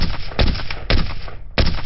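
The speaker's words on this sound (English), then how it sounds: "it's a random gunshot every time." Three loud, sharp gunshot blasts from a game sound effect fire in quick succession, each cracking hard and decaying briefly before the next.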